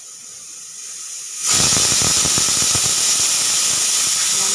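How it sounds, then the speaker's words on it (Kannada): A pressure cooker vents a sudden loud, hissing steam whistle while cooking drumstick leaf pulao. It bursts in after a quiet moment and then holds a harsh, continuous rush up close. "ಈಗ ಇದನ್ನು ಒಂದು ವಿಸಿಲ್ ಕುಗ್ಸಿದ್ರೆ ಸಾಕು"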